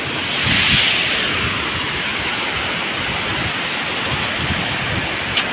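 Water pours down the Morzot waterfall near Poladpur in a steady, full rushing roar, dense and unbroken, swelling slightly early on, with a brief sharp tick near the end.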